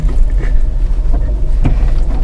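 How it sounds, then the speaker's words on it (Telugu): A Tata Tiago hatchback drives off-road between trees and over mounds in second gear, with a steady, loud low engine and road rumble throughout and a few brief bumps. "చెట్ల మధ్యలో నుంచి, పుట్ట మధ్యలో నుంచి నేనైతే తొక్కేస్తున్నా బండి."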